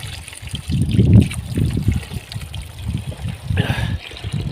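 Cold mountain water trickles near deodar trees on a hillside, a close, steady gurgling with uneven low splashes and no one speaking.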